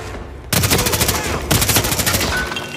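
Machine gun fire in the VR video game Hitman 3 on PlayStation VR: loud, rapid bursts of automatic gunfire in two sustained volleys, close and dominant.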